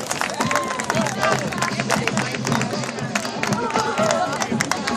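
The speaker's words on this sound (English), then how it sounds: "Big round of applause." Crowd at a Kings Park varsity cheerleading senior day claps and cheers, a dense steady patter of applause with shouts and babble mixed in, fairly close and continuous.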